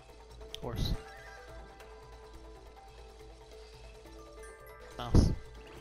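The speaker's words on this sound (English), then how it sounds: "Just so you know, the horse goes neigh." A horse neighs twice, sharp whinnies spaced several seconds apart over a low, steady background hum.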